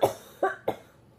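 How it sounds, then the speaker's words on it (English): Three quick coughs in a row, close and fairly soft, the first two spaced apart and the third following closely. "Sorry, I'm going to cough again."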